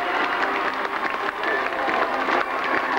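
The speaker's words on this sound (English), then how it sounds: "everybody in our audience claps and cheers as loudly as" Children's show audience clapping and cheering as loudly as they can, a dense steady wash of applause and shouts filling the room throughout.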